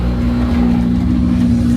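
Toyota Supra engine running loud and close, a steady low rumble with a strong constant hum, no voices over it.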